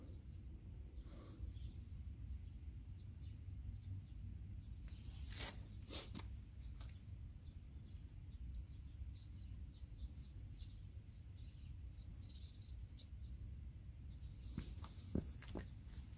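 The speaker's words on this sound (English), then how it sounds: "You can only hear the birds chirping." Birds chirp on a quiet morning, sparse and faint, sounding distant over a low background hush, with a few scattered brief noises nearby.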